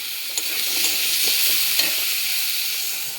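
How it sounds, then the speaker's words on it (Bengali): Greens tipped into a pan of oil with fried lentil dumplings, a loud close hiss and crackle of sizzling with a few stirring knocks, no voices. "ডালের বড়িগুলো ভাজা হয়ে গেছে, এবার দিয়ে দেবো শাকটা।"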